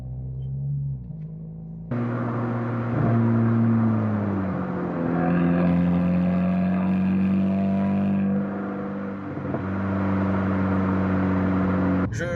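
A tuned Seat Leon FR 5F with a 1.8-litre Stage 1+ engine pulls hard through its gears, its engine tone rising and then dropping at each shift. The drone is loud and heard from close by, with no talking.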